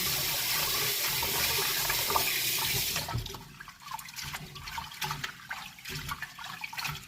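Water runs loudly from a tap while rice is washed, then stops after about three seconds and gives way to softer sloshing and rinsing sounds of grains and water in a bowl.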